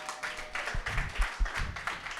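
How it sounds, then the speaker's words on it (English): Scattered, fairly faint clapping from an audience at a live talk event, with a few separate claps and some low thumps under the noise. "can we give a round of applause for these three black giants right here"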